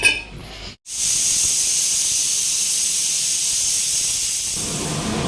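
A pressure cooker holding meat lets off a loud, continuous jet of hissing steam that runs for several seconds after a short pause, with no voices.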